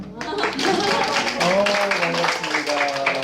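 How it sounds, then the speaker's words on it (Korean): Church congregation clapping in welcome for a newly introduced 23-year-old member, a dense steady burst of hands filling the room for about three seconds, with voices mixed in. "박수 한번."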